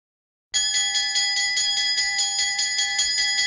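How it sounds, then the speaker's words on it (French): A school bell starts abruptly and rings continuously at close range, a loud, steady metallic clang with no voices. "La cloche a sonné"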